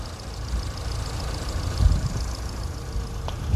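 A 2010 Daewoo Nexia's 1.5-litre engine idles at a car market in Aktau, a smooth, even low hum with no break and no talk.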